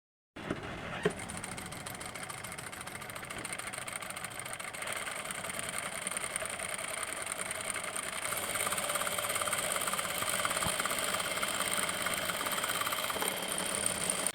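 A power sewing machine with a curved scroll hemmer foot runs a 6.4 mm rolled hem, giving a steady, fast mechanical whir with a faint rapid needle clatter that holds at a constant level throughout.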